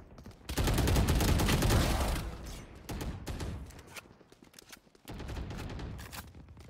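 A loud, close burst of rapid gunfire in the video game Valorant, followed by shorter volleys and scattered single shots.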